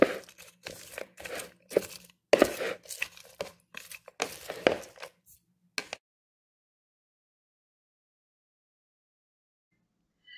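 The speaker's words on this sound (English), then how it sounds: "we're going to julienne one apple" A knife julienning an apple on a cutting board, a quick series of crisp crunchy chops for about six seconds, close and dry, then stopping into silence.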